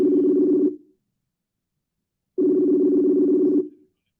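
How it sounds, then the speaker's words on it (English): A phone call rings out while waiting for pickup, with two long, evenly spaced ringback tones separated by a second and a half of silence, clear and close with no talking. "We'll try to buzz him one more time. Pick up the phone, Dazza."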